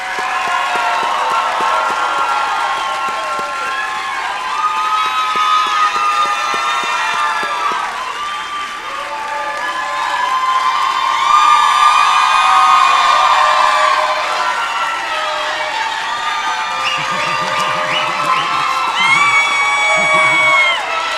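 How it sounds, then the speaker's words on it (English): Enthusiastic crowd cheering, whooping and clapping for graduates at a 2023 winter liberal arts commencement, loud and sustained, with many high shouts and whistles rising and swelling over a bed of applause. "And one final round of applause for our graduates."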